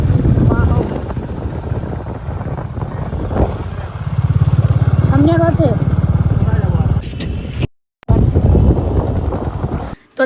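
A motorbike ridden on a road, its steady engine drone and heavy wind buffeting filling the recording at close range, with a brief dropout near the end and someone talking over the noise.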